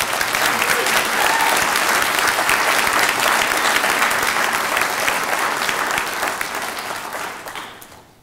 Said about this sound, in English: will you please join me in giving all of our distinguished faculty members, representing the schools of business, behavioral sciences, and the law, a big round of applause